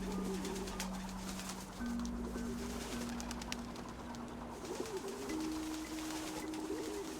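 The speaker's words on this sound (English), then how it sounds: "The sounds of birds." Bird sounds in a video game, with soft repeated dove-like cooing phrases over a steady ambient bed and faint clicks, continuous and fairly quiet.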